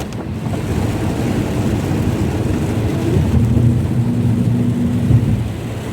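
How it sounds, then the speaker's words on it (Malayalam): Heavy rain drumming on a moving car on the road near Nelluvayi, a dense, steady roar of rain and wind noise throughout, no voices. "ഞങ്ങള് പോകുമ്പോ നല്ല മഴയാണ്"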